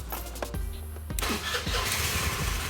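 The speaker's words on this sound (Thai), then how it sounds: "สตาร์ทเทสดูนะครับว่ามันติดดีหรือไม่ ปุ๊บอ่ะเดี๋ยวลองสตาร์ทดูครับ" A Honda Click Play scooter motorcycle, 17 years old and fitted with a new battery, cranks with a few short starter clicks, then the engine catches and settles into a close, steady idle.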